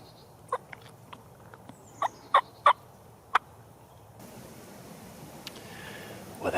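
Wild Osceola turkey gobbling during a public-land hunt on a Florida WMA: a string of loud, rolling gobbles at close range, several bursts in quick succession, then quieter breeze-like rustle and a couple of faint distant calls.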